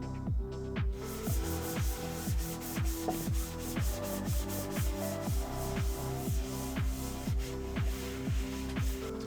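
Close, steady rubbing on the plastic shell of a flood-damaged PS5, with regular back-and-forth strokes repeating about twice a second over a faint constant hiss.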